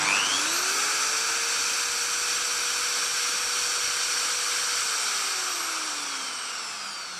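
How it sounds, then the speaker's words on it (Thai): An electric drill spins up to a steady high whine, runs continuously for several seconds, then winds down, close and loud with no talking. "ถ้าเกิดเราสตาร์ทสว่านนะครับ"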